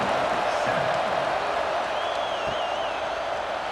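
Simulated stadium crowd in the College Football 26 video game at a Kentucky vs Auburn matchup, a steady, fairly subdued roar with scattered cheers and a whistle-like whoop, continuous throughout.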